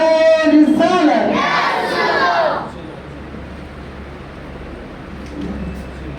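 A large crowd at an annual religious gathering at a seminary shouts slogans in unison, loud and close, responding to a leader, then fading to a low murmur of the assembly.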